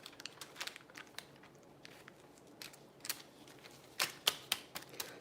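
A foil packet for hair lowlights is folded into a tri-fold at a salon station, making quiet crinkling and sharp crisp creases that grow louder toward the end, with no voices.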